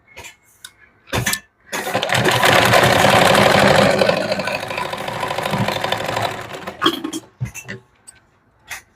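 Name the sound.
sewing machine stitching a princess cut blouse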